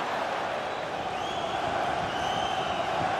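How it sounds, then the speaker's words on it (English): A football crowd cheering as a corner kick is set up, a broad steady roar of many voices holding at an even level throughout. "Oh, the crowd delighted with this."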